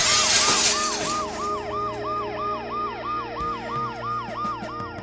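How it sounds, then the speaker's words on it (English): An ambulance siren in the video game Dead Synchronicity wails in a fast, regular up-and-down cycle, loud and close, beginning after a brief burst of noise and repeating throughout. "The noise the ambulance makes will cover the sound of the glass breaking."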